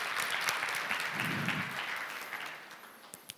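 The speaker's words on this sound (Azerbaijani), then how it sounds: "Alqışlarınızla." Audience applause at a sales technology panel, a fairly faint burst of clapping from a crowd that swells early and then gradually fades.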